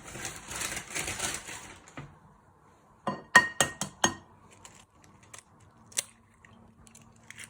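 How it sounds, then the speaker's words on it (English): Two eggs are cracked against a bowl for a fish finger coating. Several sharp, close taps and clinks come in a quick cluster after some rustling, followed by a few quieter knocks. "First you start off with cracking your 2 eggs into a bowl"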